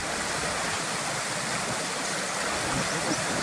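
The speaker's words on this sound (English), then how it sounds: "There must be a brook comes all the way down this hill." A hillside brook rushes loudly and steadily close by, a dense broadband wash of flowing water with no voices.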